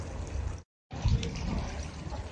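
Water runs steadily through old stone drainage channels in a tourist area of Malaga, a continuous close rushing trickle that cuts out briefly before resuming.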